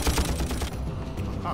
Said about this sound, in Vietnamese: Tôi quá quen với tiếng súng này.